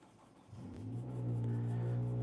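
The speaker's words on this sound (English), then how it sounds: "there's my neighbor starting his loud car" A neighbor's loud car engine turns over and revs up, the low engine drone steadily climbing and swelling in volume until it holds a sustained, throaty roar nearby.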